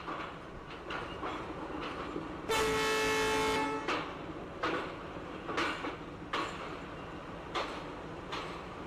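An ICF passenger coach on the Rewa–Rajkot Express rolls along with a steady rumble and rhythmic clickety-clack of wheels over rail joints, heard from the open door, as a loud horn blast sounds early on.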